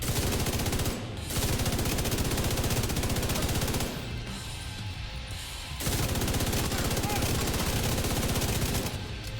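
An MG5 machine gun fires in The Division 2, loud sustained automatic bursts with a short break near one second and a quieter stretch from about four to six seconds before the heavy fire resumes.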